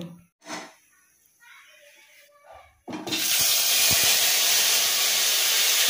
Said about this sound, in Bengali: এবার আমি এটা গরম তেলের উপর দিয়ে নেড়ে নেব।